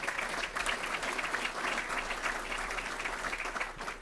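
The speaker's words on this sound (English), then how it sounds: "Please give Tisha a big round of applause." A crowd at an investment manager conference applauds steadily, a dense wash of clapping that holds at even strength from start to finish.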